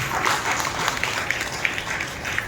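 A church congregation at a Christmas service claps together. The clapping is dense and continuous, with scattered sharper claps standing out, and a faint murmur underneath.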